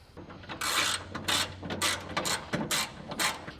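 A nut is tightened on the front door glass track of a 1968-69 Camaro, giving a run of short, close ratcheting bursts in an uneven rhythm with brief pauses between.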